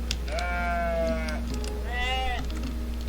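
A goat in the video game OneShot bleats twice in close succession, each a wavering, nasal cry lasting about a second, loud and near over a steady low hum of game ambience.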